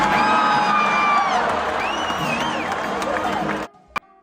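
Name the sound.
concert crowd reacting at a show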